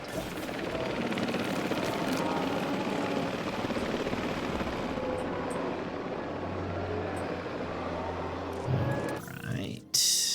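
Helicopter airlift release in the Jurassic World video game: a steady, loud rotor-like roar with a low drone fills most of the clip, then shifts and drops out near the end.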